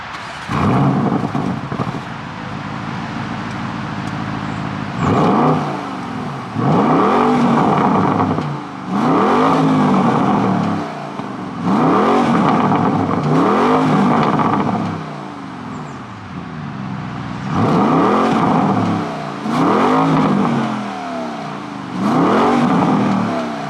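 A Porsche Cayenne GTS Coupe V8 with a lightweight exhaust, started in sport mode and then revved repeatedly, loud close blips rising and falling in a steady rhythm of about six bursts separated by idle.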